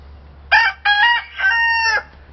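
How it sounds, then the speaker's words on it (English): A rooster crows once nearby, a loud multi-part cock-a-doodle-doo rising and then holding before it stops. "we know you're the rooster."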